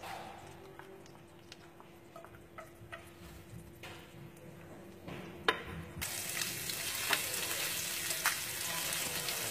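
Garlic and aromatic onions go into a pan of hot fish fat and sizzle. The frying starts quietly, with scattered ticks of a utensil, then jumps to a loud, steady crackle partway through.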